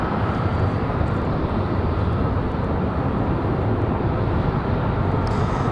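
A Delta Airbus A320 jet departs Raleigh-Durham International Airport, its constant, heavy engine roar continuing unbroken and alone.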